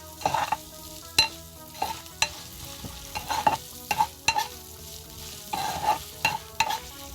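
Ginger garlic paste and tomato sauté in a kadai for kadai paneer, a soft continuous sizzle under repeated rhythmic stirring, with sharp metal clinks of a spoon against the pan every second or so, close up and without speech.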